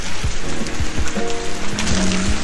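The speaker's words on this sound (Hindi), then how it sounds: "पेड़ों से गिर रहा पानी, ऐसा लग रहा है कि बारिश हो रही है।" Meltwater from snow dripping off trees onto a snowy road in Manali sounds like rain, a dense near patter with scattered louder drops and some low thumps.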